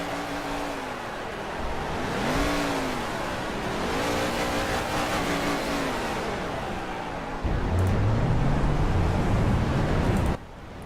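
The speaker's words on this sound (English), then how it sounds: "The engines have been fired, and I really have to thank Cameron there for revving up his engine there" Race car engines in a dirt-track racing game crank up and rev, rising and falling in repeated surges before a louder, steady high roar takes over and then cuts off abruptly.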